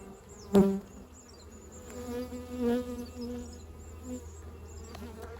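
Honeybees at an open hive produce a steady, close droning buzz with a sharp knock near the start and a few louder swells.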